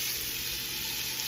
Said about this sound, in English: and let that sizzle